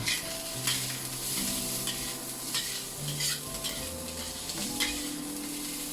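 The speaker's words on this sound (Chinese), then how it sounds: "简单翻炒几下，放入切好的韭菜，加盐2克，翻炒均匀。" Pickled mustard greens, dried chilies and chopped chives are stir-fried in a pan, with a steady close sizzle under repeated scraping and clanking of a spatula against the metal.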